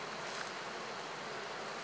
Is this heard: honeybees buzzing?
yes